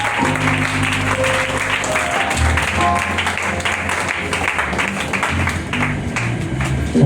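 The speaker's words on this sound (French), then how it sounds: "Est-ce qu'on peut acclamer le Seigneur," A church congregation applauds during a worship service, a steady wash of clapping from many hands filling the room at even loudness throughout, with music and voices faintly underneath.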